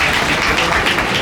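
A brief, dense burst of applause from an audience at a community get-together, steady clapping lasting only a moment.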